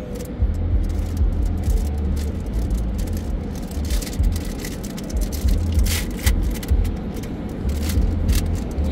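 An automatic car wash running with triple foam around a car in neutral: a continuous loud rumble and hiss of spraying water and machinery, with rattling and thumps throughout.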